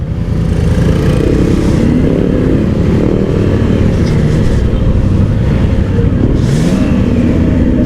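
A 2024 Triumph Trident 660 naked motorcycle with an inline engine on a test ride, its steady, close engine drone blended with rushing wind, with no talking.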